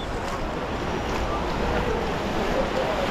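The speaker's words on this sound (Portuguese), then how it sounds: "a onda é forte" Strong ocean waves at a beach make a continuous loud roar of surf, mixed with wind buffeting the microphone.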